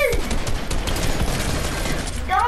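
Dense, steady gunfire in an arena shooter video game, a continuous loud burst of rapid shots lasting the whole moment.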